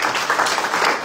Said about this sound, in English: Let's give God a big clap.